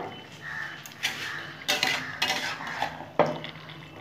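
Spinach curry with sugar added being stirred in a pan, a few distinct spoon scrapes and clinks against the metal over quiet background, no talking.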